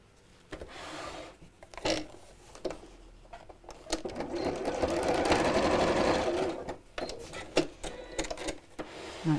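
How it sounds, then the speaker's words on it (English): A sewing machine runs a straight seam across the top of folded fabric with the raw edges exposed. Its close, steady mechanical whirring comes in short bursts, then one longer continuous run in the middle. "sew straight across the top"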